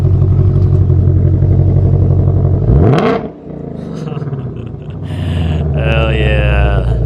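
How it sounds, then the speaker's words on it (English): A 2020 Shelby GT500's engine idles loudly with its active exhaust open, then revs sharply and drops off, settling back into a throaty, burbling idle with a harsh exhaust note. "One of the coolest things about this 2020 Shelby GT500 is the active exhaust"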